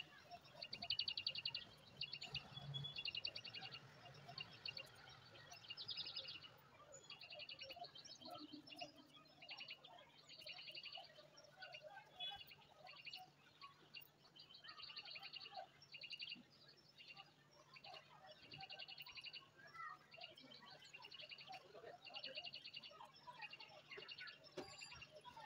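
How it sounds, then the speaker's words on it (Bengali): Birds chirping outdoors in a quiet rural setting, a steady chatter of high repeated calls at moderate distance, with faint low background noise and no talking. "পাখির আওয়াজগুলো"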